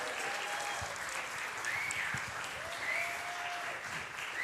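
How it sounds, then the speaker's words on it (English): An audience at a morning gathering applauds to welcome a magician, continuous steady clapping with faint whistles and cheering cries rising over it. "let's have a huge hand clap for magician and personality, Erik Blackwell"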